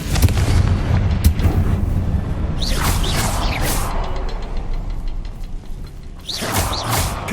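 A Confringo spell explodes in the Hogwarts Legacy video game, with heavy booming blasts and whooshing bursts over a rumbling, continuous game soundscape.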